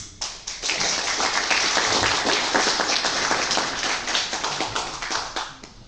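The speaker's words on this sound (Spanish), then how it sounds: "a continuación recibimos con fuertes aplausos al autor Juan Alberto Osorio, que presenta su novela" Applause welcoming an author at a book presentation for a novel, a smaller crowd clapping with distinct individual hand strikes, building quickly and then holding strong before thinning slightly at the end.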